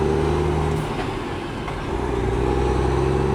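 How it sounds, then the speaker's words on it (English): A heavy truck engine drones loud and steady up close while grading a gravel driveway, a deep continuous rumble with a slight dip in the middle, no voices. "This truck is freaking loud."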